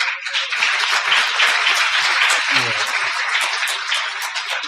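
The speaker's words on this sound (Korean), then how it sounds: "박수 한번 할까요?" A church congregation claps together at a Christmas service, a broad, steady wash of many hands filling the room for several seconds, with a brief low murmur partway through.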